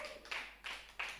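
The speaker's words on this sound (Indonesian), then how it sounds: "Beri tepuk tangan buat dia." Audience applause at a church sermon, heard as three short, fairly faint bursts of clapping spaced roughly a third of a second apart.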